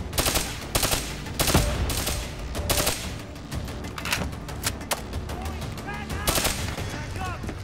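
Gunfire in the video game Call of Duty Black Ops 3, with rapid bursts of automatic fire and single shots repeating at close range, loud and sharp, with some talk in between.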